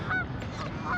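Geese honk twice in quick succession, fairly close, over a steady rushing background noise on the water during an RC hydroplane boat run.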